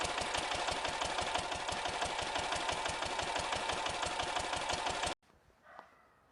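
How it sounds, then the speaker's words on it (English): A Slavia D8, a small stationary diesel engine built in Napojedla, Czechoslovakia, runs with a steady rapid thumping beat, loud and close, before cutting off abruptly near the end, leaving faint background noise. "The Slavia D8 engine is a small stationary diesel engine produced by the historic Slavia company in Napojedla, Czechoslovakia"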